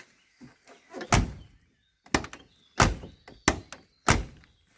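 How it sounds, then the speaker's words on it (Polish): An FSO Polonez truck door closing several times in a row, each a solid close metallic thunk with short pauses between and a few lighter clicks before the slams. "Drzwi się zamykają."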